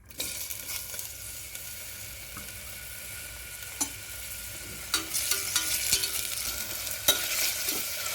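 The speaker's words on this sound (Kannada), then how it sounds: "ಇವಾಗ ಎಣ್ಣೆ ಹಾಕ್ತಾಯಿದ್ದೀನಿ. ಇವಾಗ ಈರುಳ್ಳಿ ಹಾಕ್ಕೊಳ್ತಾ ಇದ್ದೀನಿ." Onion sizzling and frying in oil in a pan for mutton chops, a continuous close hiss with occasional clinks and scrapes of stirring that grow busier toward the end.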